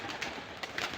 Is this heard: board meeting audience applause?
no